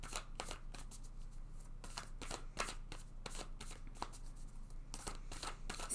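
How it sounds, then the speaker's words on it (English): Oracle card decks are shuffled by hand in quiet, close riffles and slides, a rapid series of crisp papery bursts repeating in an uneven rhythm, soft and alone without talk. "let's just take a card from each of these oracle decks"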